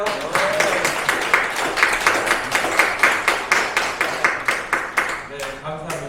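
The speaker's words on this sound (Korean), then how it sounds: "박수 한번 쳐주세요" A crowd at a political party rally claps together in a steady, quick rhythm that keeps going the whole time, with voices mixed in underneath.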